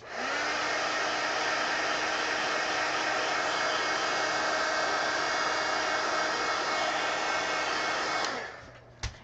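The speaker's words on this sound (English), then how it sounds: "Heat gun again." A heat gun blows a steady, loud, close rush of hot air for about eight seconds, then cuts off with a brief clunk at the end; nobody speaks over it.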